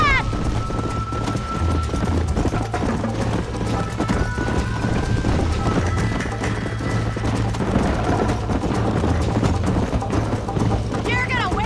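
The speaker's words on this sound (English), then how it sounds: "You're gonna wear that horse out!" Horse hooves gallop in a steady rapid clip-clop in the Red Dead Redemption video game, close and continuous under wind and game music.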